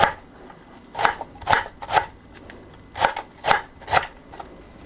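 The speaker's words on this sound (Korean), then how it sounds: "이렇게 잘라서 다 대고 이렇게 쫑쫑쫑 썰어주세요." A knife finely chopping ingredients on a board: several bursts of quick, crisp cuts in an uneven rhythm, close and fairly loud with no talk.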